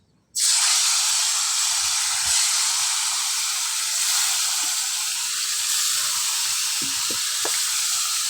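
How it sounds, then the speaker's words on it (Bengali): Koi fish fry in hot oil in a wok, a loud, steady sizzling hiss that bursts in abruptly and continues unbroken, with a few faint clinks near the end. "এখন আমি ভালো করে মাছগুলো ভাজা নেব"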